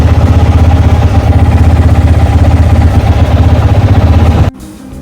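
A friend's vehicle engine runs loud and close, a steady throbbing drone during a ride that cuts off abruptly near the end, no talking.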